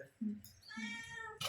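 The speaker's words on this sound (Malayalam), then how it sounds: "പൂച്ചയൊക്കെ നിൽക്കുന്നുണ്ട് അവിടെ." A cat meows close by at a home, one drawn-out call in the brief moment, with a voice heard faintly around it.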